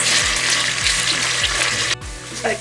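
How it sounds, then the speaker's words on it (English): A jollof rice base sizzles with onions in a pot, a steady close-up frying hiss with faint recurring low thumps and a brief break near the end. "So I'm simply now just going to be frying this in with the onion for some time, maybe another 2-3 minutes."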